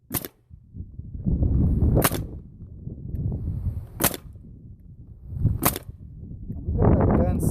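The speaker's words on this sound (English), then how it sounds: "We got our gun set at 50 psi. That's why we're probably having a little bit of trouble getting the nails to shoot out." Pneumatic nail gun set at 50 psi firing nails into wood shingles, four sharp loud snaps spaced about two seconds apart, with handling noise and faint rustling between shots.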